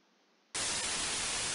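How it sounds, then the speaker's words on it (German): Radio static white noise from the video game Voices from the Sea bursts in abruptly after a faint hiss, then holds as a loud, steady, broadband rush. "Ich höre nichts als Rauschen."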